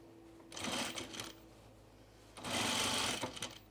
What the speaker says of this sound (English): So we're just gonna stitch this just inside that 3/8 inch seam allowance.